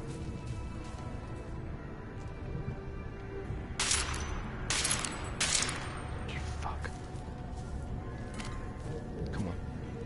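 Several sharp gunshots crack out in Deus Ex: Mankind Divided, about three loud close reports clustered midway through, over a steady low ambient game hum with faint scattered clicks.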